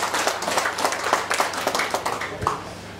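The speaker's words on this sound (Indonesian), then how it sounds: "untuk tepuk tangan" An audience at a regional development planning meeting claps together in a steady patter of overlapping hand claps, moderately loud and sustained for a few seconds before tapering slightly.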